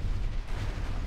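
A mortar explosion in the video game MechAssault, a short, dense, low rumbling blast that fills the moment with sustained booming noise and no talking.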